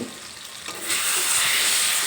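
Cauliflower masala with potato frying in a wok over a medium flame, giving a loud, steady sizzle that swells after a quiet start as the mixture is stirred, with no talking.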